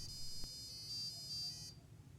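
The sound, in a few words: buzzer beeping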